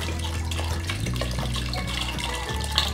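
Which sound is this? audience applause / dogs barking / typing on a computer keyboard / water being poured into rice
water being poured into rice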